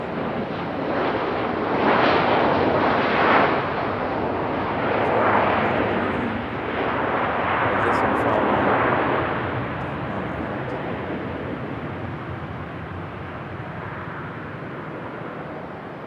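A United Boeing 737 airliner departing Raleigh-Durham airport, its broad engine roar swelling loud over several seconds and then slowly fading into steady wind rumble on the microphone.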